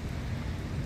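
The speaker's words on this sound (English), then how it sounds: "It's raining." Steady, fairly quiet rain hiss with a low rumbling background, continuous and even throughout.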